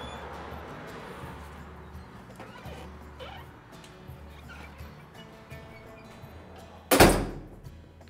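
A hotel room entrance door at an inn shuts with one sharp, loud thump near the end, after a stretch of quiet room tone with faint shuffling.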